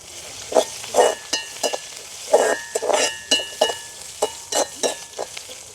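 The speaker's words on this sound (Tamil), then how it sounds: "எங்களுக்கு வெங்காயமும் செத்தலும் நல்லா பொரிஞ்சிட்டுது" Onions and dried red chillies frying in a pan, with a steady sizzle broken by repeated scraping and stirring strokes and occasional light clinks of a utensil against the pan, close and fairly loud.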